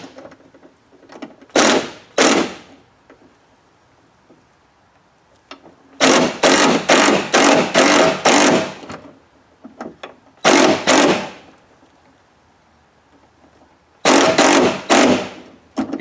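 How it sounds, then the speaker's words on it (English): An impact wrench tightens carriage bolts on an upgraded mirror of a 1995 Ford F350 truck, four loud rapid bursts of hammering rattles separated by quiet gaps, each burst a second or two long. "I am going to use an impact to lock everything down, because it'll help pull it tight with those carriage bolts."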